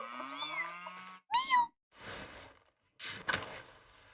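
A voice imitating cats, giving a few meow-like calls with rising and falling pitch, loud and close, separated by short pauses in an indoor setting.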